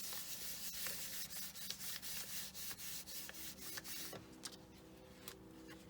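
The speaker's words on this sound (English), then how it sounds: "I'll just flip it over, and I'll just give this side another burnish" Rapid rhythmic rubbing strokes burnishing a polymer clay pendant, close and dry scraping swishes repeating about every quarter second, then easing off in the last two seconds, with no talk.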